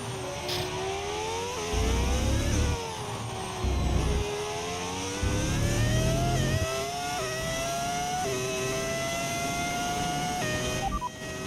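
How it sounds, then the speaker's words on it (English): A V10 engine audio mod in the F1 25 racing game screams at high revs, its pitch climbing through the gears with brief drops at each shift and deeper bursts on downshifts, loud and continuous with no talking. "Did you put on a V10 engine? It's a mod. It's an audio mod."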